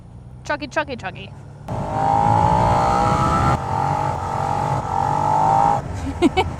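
A 2016 Suzuki SV650 motorcycle engine chugs and drones loudly close by, revving steadily with a low, tractor-like throbbing tone; brief talk comes before and after.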